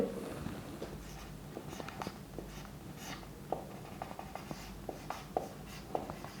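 A pen scratches out a math formula on paper, quiet irregular strokes and taps close by over a low background hum, with no talking.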